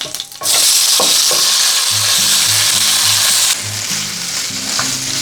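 Potatoes fry in hot oil with a loud, steady sizzle, while soft knocks of stirring sound underneath.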